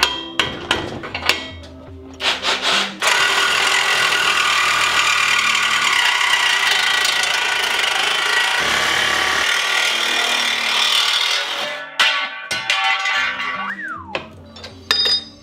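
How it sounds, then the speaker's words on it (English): A Sawzall reciprocating saw cuts through a shovel clamped in a worn vise, starting after a few metallic knocks and clanks, then a loud steady buzzing cut lasting about nine seconds, followed by more clattering handling noises. "That sawzall's no joke."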